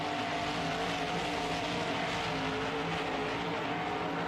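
Evil Force, a monster truck, races in an Anaheim stadium: a loud, constant engine roar with a sustained drone and tire noise that never lets up, heard from a distance across the arena.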